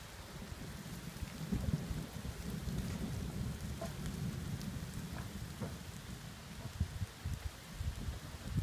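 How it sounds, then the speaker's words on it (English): Thunder rumbles low beneath steady rain falling on a porch in Tuscany, the downpour continuous and moderately close with no voices. "Thunder."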